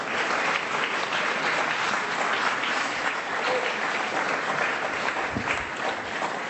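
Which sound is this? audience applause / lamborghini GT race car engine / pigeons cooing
audience applause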